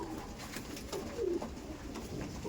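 Pigeons coo inside a breeding loft, giving a few soft, throaty rolling calls close by against a quiet background.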